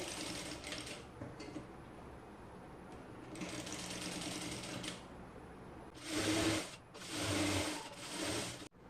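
A sewing machine stitches along a folded fabric strip in several short bursts of steady mechanical whirring, close and moderately loud, with pauses between runs.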